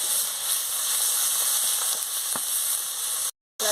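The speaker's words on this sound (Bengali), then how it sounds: "লঙ্কার গুঁড়ো একসঙ্গে দিয়ে আমি ভালো করে মশলাটাকে কষিয়ে নিচ্ছি" Spice paste of garlic, turmeric and chili powder sizzling steadily in hot oil while being fried for a katla fish curry with cauliflower, a constant loud hiss with a few faint stirring scrapes, then a brief cut to silence.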